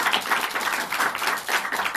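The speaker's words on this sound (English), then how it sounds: "Let's give her a big round of applause." An audience applauds at a live storytelling event, a dense burst of clapping from many hands that continues steadily without voices.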